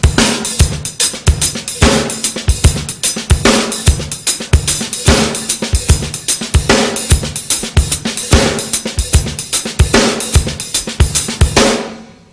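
A drum kit plays a steady groove with quarter notes on the hi-hat, giving a loping feel; loud, close and continuous kick, snare and hat hits in a regular rhythm for the whole stretch, ending abruptly, with no talking.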